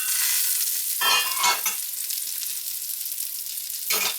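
A bacon-wrapped hot dog fries in a pan with a steady close sizzle, broken by a few brief bursts of stirring or turning.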